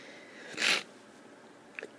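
A person suffering from allergies with an itchy nose lets out a single short, sharp sneeze, fairly close, followed by a faint sniff in an otherwise quiet room.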